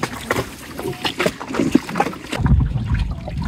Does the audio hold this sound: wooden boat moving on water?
yes